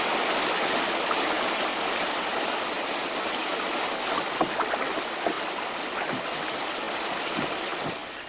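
The turbulent Bohorok River at the edge of a forest reserve in Indonesia rushes steadily as a broad, continuous wash of water noise, with a few brief splashes standing out near the end.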